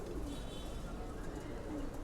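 Silver pigeons kept at home for pairing coo softly in the background, the low calls faint and steady with no other clear sounds.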